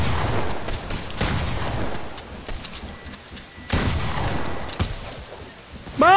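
Loud bursts of rapid gunfire in a PS4 shooter game, with several clustered volleys across the stretch and a brief rising electronic tone at the very end; no voices.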